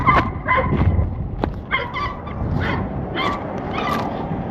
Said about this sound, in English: I do hear a dog over there though